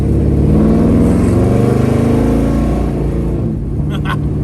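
A 1970 Chevrolet Chevelle on an aftermarket frame pulls down the road, its loud close engine rising through the gears with a brief dip at each shift before settling into steady cruising.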